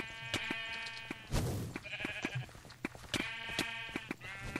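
Sheep in a video game bleat in short repeated calls, several cries spaced through the clip amid game sound effects and faint background noise.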